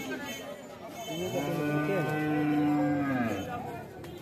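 A cow gives one long, loud moo at a village cattle market where local desi calves are being sold, the call rising and holding steady before fading, with faint crowd chatter behind it.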